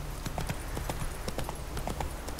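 Hooves of the horse Roach cantering in The Witcher 3 video game, a quick steady clip-clop rhythm over a constant noisy background, brief and moderately loud.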